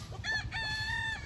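A rooster crows once in a bright, drawn-out call with chickens nearby, close and clear outdoors on a farm, with no talking.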